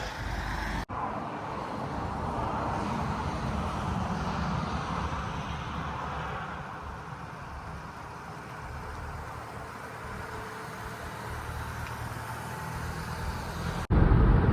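A Renault Koleos Bose 2.0 dCi automatic on a short test drive gives a steady low road and engine rumble, even and fairly close, with abrupt cuts near the start and end.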